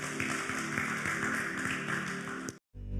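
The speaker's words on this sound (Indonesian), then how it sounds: "Yang percaya tepuk tangan buat Tuhan Yesus" A church congregation at a Pentecostal Sunday service claps together in a steady, dense wash that carries on for about two and a half seconds, then stops abruptly.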